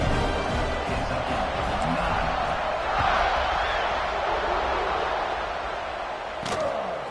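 Video game crowd noise from a college football broadcast of Georgia versus Kentucky, a steady roar of cheering fans as the kickoff is set, holding at an even level with a brief louder swell midway.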